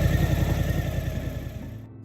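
A 2018 Suzuki V-Strom 1000XT motorcycle engine gives a low, muted, pulsing thrum, nearly buried under a steady rush of wind noise that drops away at the very end.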